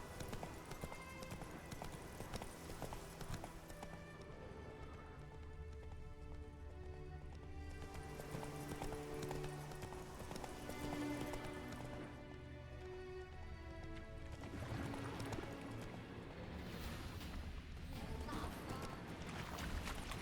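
Steady clip-clop of horse hooves at a trot in a modded Witcher 3, over a busy game soundscape with music, with some talking mixed in.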